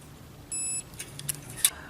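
A short, clean electronic beep from a multimeter continuity test on a motorcycle charging system sounds once, steady in pitch, followed by faint clicks and light handling noises in a quiet room.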